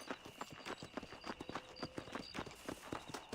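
Horse hooves clip-clop in a steady, quick rhythm in the video game Red Dead Redemption, close and clear with no talk over them.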